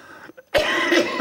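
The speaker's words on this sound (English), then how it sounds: "the very thought of it brings on a coughing fit" A short burst of throat clearing gives way to a loud, sustained hacking cough close to the listener.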